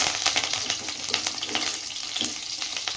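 Curry leaves crackling in hot oil in a pan while making a Karchikai palya stir-fry, a dense sizzle broken by many quick sharp pops and spits, close and fairly loud, with no talking.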